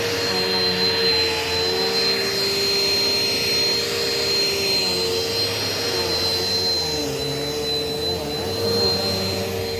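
A Eureka Power Speed upright vacuum cleaner runs indoors, a steady loud whining drone with a high tonal whistle, close and constant throughout with no talking.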